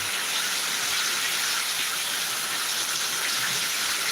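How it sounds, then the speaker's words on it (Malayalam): Heavy summer rain pours down steadily in Kerala, a dense, even hiss of water drumming on surfaces with no letup and no voices. "നല്ല വേനൽ മഴയാണ് അതാ ഇപ്പം പെയ്തേ ഉള്ളൂ"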